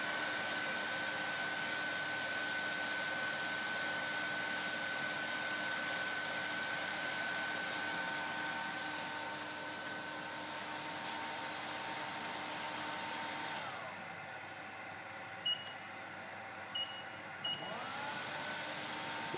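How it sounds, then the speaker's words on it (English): A cooling fan runs steadily to cool a circuit board on a BIRD SD2P2 rework machine, a continuous even whir with a faint tone, dropping slightly in level partway through, plus a few small clicks near the end. "Right now the cooling fan's running, cooling the board off."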